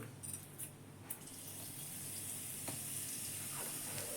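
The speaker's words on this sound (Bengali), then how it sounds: "আর কড়াতে একটু হিং দেবো" Asafoetida and spices sizzle in hot oil in a kadai, a few crackling pops giving way to a soft, steady frying hiss, fairly quiet and close.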